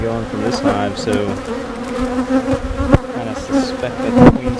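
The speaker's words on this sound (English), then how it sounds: "I've noticed more bees coming and going from this hive," Honey bees buzz loudly around a hive, a dense, close drone of many wings with individual bees zipping past the listener.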